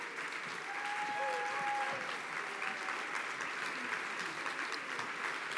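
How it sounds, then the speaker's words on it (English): Banquet audience at a YWCA anniversary awards event stands and applauds in a long, even round of many hands, with faint voices and cheers beneath the clapping. "As you stand and give them a big round of applause"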